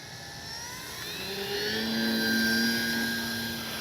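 A Dynam DHC Beaver V2 radio-controlled plane cruises overhead on its maiden flight, its electric motor a steady droning whine that swells and shifts pitch as it passes closer, then eases slightly, with no talk.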